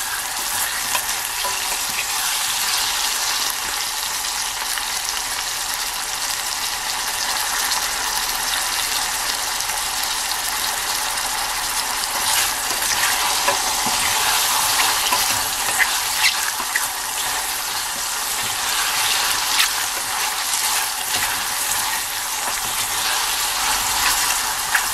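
Mushrooms fry in garlic oil over low heat, giving a steady, even sizzle that hisses continuously at close range with no talking.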